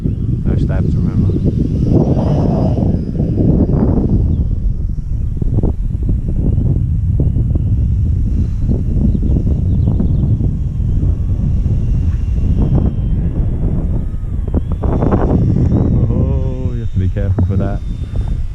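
Wind gusts roar and buffet around a flying 3D RC plane outdoors, with heavy rumbling microphone wind noise throughout and a person talking over it.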